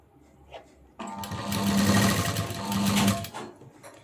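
A sewing machine runs a quick seam of piping around a blouse neckline, starting abruptly after a faint knock, then whirring continuously for about two seconds with a slight dip midway before stopping.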